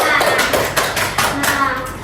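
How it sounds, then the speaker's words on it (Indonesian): A short burst of uneven hand clapping from a classroom applauding a student during a maths lesson, with a few sharp claps and voices murmuring underneath. "Beri tepuk tangan untuk Najma."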